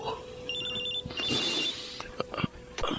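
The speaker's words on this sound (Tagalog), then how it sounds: "Ang cellphone ko. Si Colonel tumatawag." A cellphone ringtone trills in short repeated electronic pulses during a Filipino drama scene, first alone and then under a voice and other scene noises, with some sharp clicks near the end.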